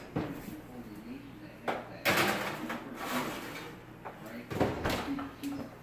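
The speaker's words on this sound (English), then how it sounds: "Let me get these back in the oven for you." An oven door opens and thumps shut in a home kitchen while a tray of baked BBQ chicken with candied bacon goes back in, a few clatters and clunks between stretches of quiet handling.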